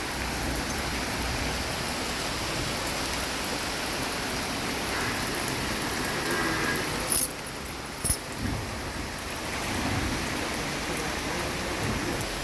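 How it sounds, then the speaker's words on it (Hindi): Steady rain falls at night, a dense even hiss of drops on surfaces that carries through the whole stretch, broken only by a couple of brief sharper knocks near the middle. "देखिए बारिश फिर से शुरू हो गई"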